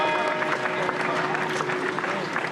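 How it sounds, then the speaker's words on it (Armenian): Pilgrims gathered outside the Mother Cathedral greet the Catholicos of All Armenians with a sustained wash of applause and crowd noise, voices mixed into the clapping throughout. "Մայր տաճարի մոտ հավաքված ուխտավորները ամենայն հայոց կաթողիկոսին դիմավորել են ծափերով ու վանկարկումներով"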